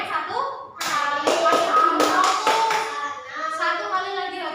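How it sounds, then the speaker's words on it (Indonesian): Fifth-grade elementary classroom pupils clap a counted rhythm pattern, sharp clusters of hand claps in groups separated by short pauses, close and fairly loud, with a voice and classroom shuffling around them. "Tepuk 1, tepuk 2, tepuk 3, tepuk 1."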